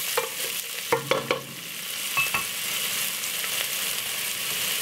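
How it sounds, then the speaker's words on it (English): Chopped white onion dropped into a hot pan, a few close spoon clatters and stirring knocks followed by a steady, loud sizzle that fills the rest, with no one talking. "Let's put a little bit of the white onion,"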